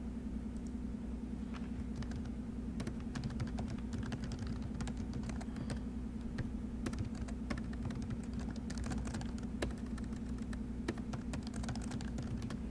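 Rapid, steady typing on a computer keyboard, a fast patter of light key clicks over a constant low hum, no speech.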